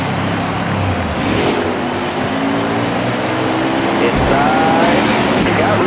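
Stock cars roar continuously on an oval track in the NASCAR Heat video game, with layered engine drones rising and shifting and a brief deeper rumble partway through. A faint voice runs underneath.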